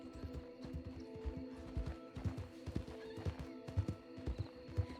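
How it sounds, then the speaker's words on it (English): A horse in a Western roleplay video game gives a steady clip-clop of hooves with a whinny, heard at moderate volume with no talk. "That's a strong looking steed."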